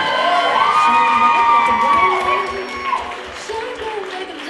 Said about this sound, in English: Big round of applause for Carla